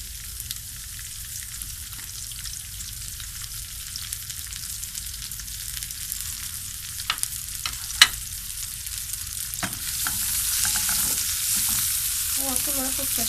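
Onion and sausage sautéing in a pan for pasta, a steady low sizzle with occasional stirring clicks, the frying swelling louder and brighter near the end.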